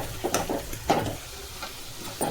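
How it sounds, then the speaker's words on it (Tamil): Onions sautéing in a pan until brown, a moderate sizzle broken by several stirring scrapes in an uneven rhythm, close by and without any voices. "இது வரைக்கும் நல்லா வதக்கிக்கிட்டே இருக்கலாம்."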